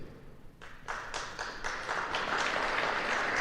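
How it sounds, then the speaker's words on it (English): An audience at a city's state of the city address in Jackson, Michigan breaks into applause, scattered claps quickly swelling into sustained clapping from a crowd in a large hall. "That applause belongs to the men and women in our law enforcement and our fire department, our first responders."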